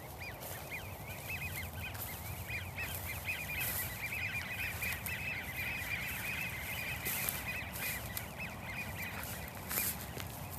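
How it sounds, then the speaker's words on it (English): A flock of ducks quacks and honks at an outdoor spot, a steady chatter of many birds at middle distance, rather faint, with no talking. "Oh my gosh, look at those ducks"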